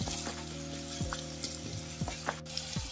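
Onion fries in a pan with garlic and ginger for dal makhani, giving a steady close sizzle with occasional stirring scrapes throughout, no voices.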